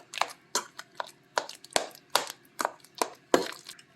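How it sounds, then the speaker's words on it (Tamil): Ten bananas are mashed by hand for a walnut banana cake, a run of sharp, squelchy strikes repeating roughly every half second, close up, with no talking. "இப்போ பனானா வந்து இந்த பத்து வாழைப்பழத்தை மசிச்சுக்கலாம்"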